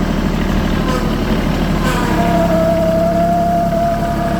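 A Branson tractor engine with a locked-up front end runs steadily nearby, a loud, constant low rumble with a faint rising whine partway through.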